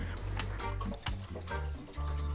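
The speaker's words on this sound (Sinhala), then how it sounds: "ඊළඟට වතුර ලීටරයක් එකතු කරනවා මම මෙතනට." Water poured into a cooking pot, a continuous splashing, gurgling stream close by for a couple of seconds, no talking.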